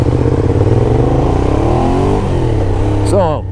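A Ducati Diavel motorcycle engine idles loud and close, then revs and pulls away, the pitch sweeping upward as it rides off near the end; a voice speaks briefly over the start.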